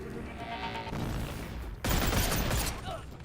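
Two guns fire in the VR game Boneworks in bursts of loud shots, the loudest rapid volley near the end, with talking in between.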